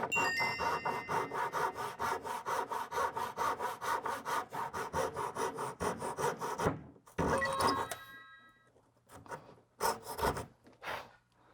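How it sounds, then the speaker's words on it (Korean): A hand saw cuts through the legs of a wooden rocking horse, with fast, steady back-and-forth strokes up close for several seconds. After a short pause come a few separate, slower strokes. "드릴과 톱을 이용해서 다리를 4개로 분리시켰습니다"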